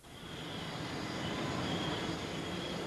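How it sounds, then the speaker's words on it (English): Specially chartered passenger planes touch down, giving a steady, loud roar of jet engines and rushing air that swells slightly and then holds level throughout. "As the specially chartered planes touched down"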